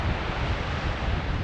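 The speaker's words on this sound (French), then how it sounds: "La petite cascade derrière." A small mountain waterfall gives a loud, steady broadband rush of falling water, constant and close with no voices.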